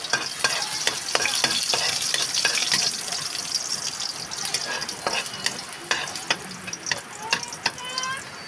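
Garlic sizzling and frying in hot oil in a pan for sardine ripolyo, a steady crackling hiss with spatula scrapes and stirring clicks throughout, close and fairly loud with no talking.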